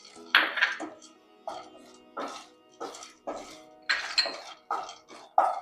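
Pumpkin seeds and then sunflower seeds tipped into a pan where cashews are frying, a series of separate pattering, clinking bursts with pauses between them, close by and moderately loud.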